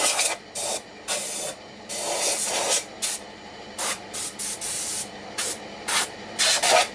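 Compressed air is blown in repeated short bursts to clear dust out of a wooden hollow form turned from a multi-branch log on a lathe; the hissing gusts are loud, close and irregular, each lasting under a second.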